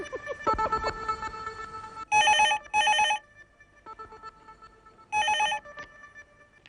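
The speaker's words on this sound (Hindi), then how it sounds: "हाँ विशाखा, तेरे लिए फोन है।" A telephone bell rings loudly in three short electronic bursts, two close together and one after a pause, with a busier stretch of sound just before the first ring.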